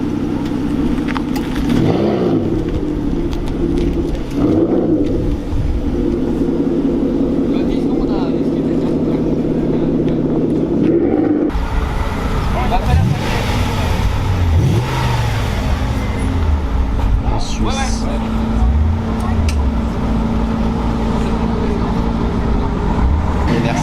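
A Lamborghini Aventador SV at a Lyon charity rally gives a loud, close V12 roar that revs and surges over a sustained drone while people talk nearby.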